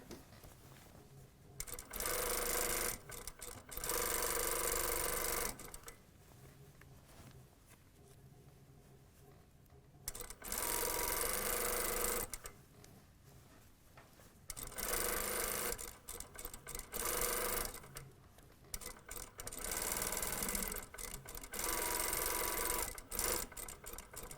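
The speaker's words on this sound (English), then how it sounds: "we're going to stitch in the same stitching line, attaching this, come from all the way in the bottom there, same stitching line" A sewing machine stitches the zipper facing onto the front of a vest in four or five steady whirring runs of a few seconds each. Quiet pauses fall between the runs.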